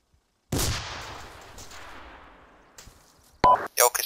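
A grenade explodes in the military video game ArmA 2 with a single sharp blast and a long decaying rumble, followed by brief clicks and short electronic beeps.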